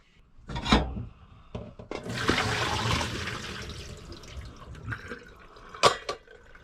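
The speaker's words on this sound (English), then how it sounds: "So they're just drained off now in the colander." Cooked baby potatoes are tipped into a colander to drain. Water gushes and splashes for a few seconds, with knocks and clatters from the pan before and after the pour.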